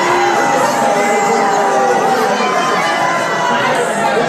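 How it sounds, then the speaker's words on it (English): A packed crowd at Congressman Keith Self's town hall jeers and boos in a loud, continuous roar of massed voices with shouts mixed in. "the crowd that assembled at Keith Self's town hall as he was mercilessly booed"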